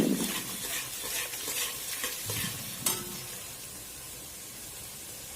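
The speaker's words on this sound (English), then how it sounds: "After heating the oil, add onions and green chilies." Onions and green chilies fry in hot oil while a spatula stirs them, a close, steady sizzle with brief scraping bursts and a sharp clack near the middle. The sizzle then settles into a softer, even hiss.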